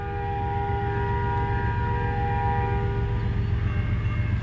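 A CN freight train rolls past during a meet between eastbound and westbound trains, a heavy continuous rumble with steady tonal horn-like drones layered on top and no talk.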